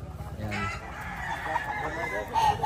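Chickens and roosters clucking and calling in a noisy, crowded setting with many people, at 7:30 in the morning, with a faint crow cutting through the background din.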